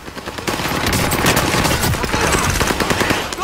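Warzone gunfire: a loud, continuous rattle of rapid shots close by, filling the whole moment with dense overlapping bursts.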